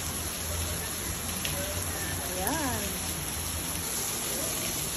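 Rain falls steadily in Honolulu as a dense, even hiss that stays at one level throughout, with a brief whistling bird-like call partway through and a voice speaking briefly.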